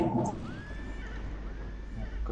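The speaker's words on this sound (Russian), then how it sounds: "Кастует коня" A horse neighs and whinnies as a mount is summoned in a video game, a clear mid-level call held over steady background game ambience.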